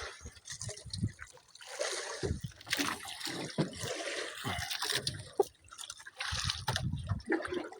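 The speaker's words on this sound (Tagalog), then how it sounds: "Dito naman ako sa dagat." Sea water on a beach shore laps and trickles in soft, irregular splashes, with small drips and wash that rise and fall over several seconds, fairly quiet and close, with no talk.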